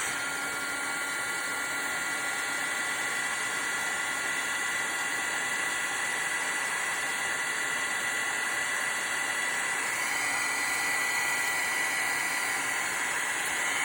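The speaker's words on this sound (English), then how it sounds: "I think my age-old heat tool is not as hot as it used to be, and maybe needs to be replaced" An old heat embossing tool blows steadily over black embossing powder, a continuous loud hissing whir, like a hair dryer, that holds unbroken throughout with only a slight shift in tone partway through.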